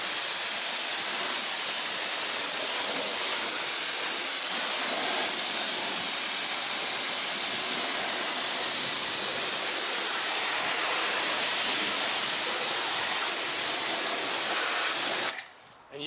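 Water sprays continuously and loudly over a 1957 Chevy Bel Air during a foam wash, a steady close hiss of rinse water that cuts off abruptly near the end.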